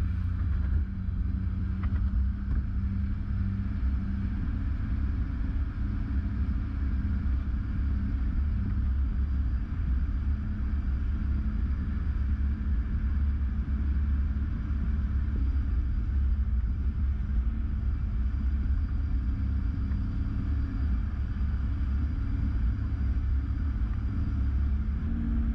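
A 4WD vehicle climbs slowly up the rocky Herne Spur track, its engine a steady low rumble that runs unbroken and fairly close throughout, with no talking.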